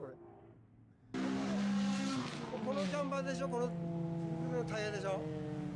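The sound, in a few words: Lexus car drifting and spinning, tires squealing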